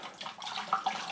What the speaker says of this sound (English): We just pump some more water in, do a little more mixing